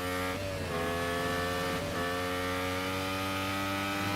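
A hybrid race car engine in the Real Racing 3 mobile game drones loudly and steadily throughout, with its pitch dropping briefly twice as the car shifts or lifts off, then climbing again.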